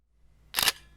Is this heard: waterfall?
no